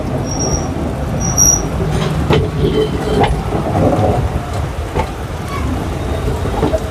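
Ledo Intercity Express train pulling out of a station platform, a steady low rumble of the moving coaches with faint rattling and occasional clanks, continuous and fairly loud throughout.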